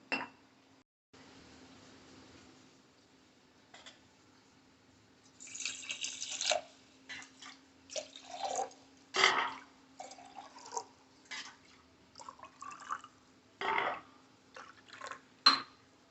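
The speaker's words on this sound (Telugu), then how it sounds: "దీంట్లో వాటర్ పోసుకోవాలి" Water trickles and splashes into a container in short bursts, with clinks of a vessel and drips between pours, against a steady low hum.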